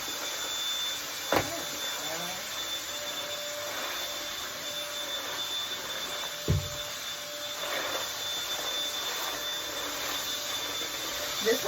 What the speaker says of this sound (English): when I had turned on this vacuum, it made so much noise